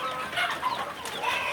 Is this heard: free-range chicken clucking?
yes